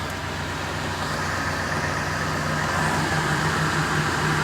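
A Ford Expedition engine idles steadily just after starting, a continuous low rumble with a faint hum, close by and unbroken.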